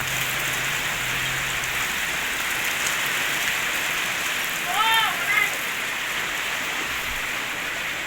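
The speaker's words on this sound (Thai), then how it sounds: "ฝนตกแบบนี้เหมาะแก่บรรยากาศเนาะพี่" Steady rain falls in a dense, even hiss throughout, with a brief chirping sound midway and a faint voice in the background.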